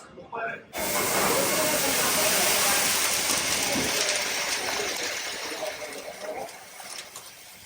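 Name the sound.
idli steamer machine hissing steam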